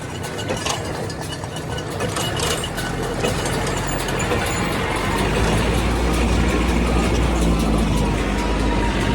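A tractor engine runs steadily at about 2,000 RPM out in a hay field, a constant low drone with rattly texture that holds level throughout with no talking.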